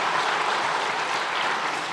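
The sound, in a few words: congregation applauding in a church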